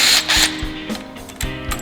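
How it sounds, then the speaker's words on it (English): A T25 driver ratcheting out the clutch pivot bolt on a 2018 Ski Doo 850, with quick metallic clicks and a few sharp knocks, close and loud, without speech. "We're gonna remove the pivot bolt with a T25."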